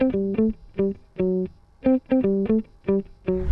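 A distorted electric guitar plays a choppy riff of short, punchy chord stabs in a syncopated rhythm, clear and close with no talking.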